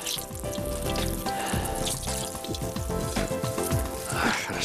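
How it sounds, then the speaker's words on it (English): Wild carp frying in hot oil, cooked Balkhash style, gives a steady, close, dense sizzle and crackle that runs unbroken throughout. "When frying fish, it's very important to let it fry properly"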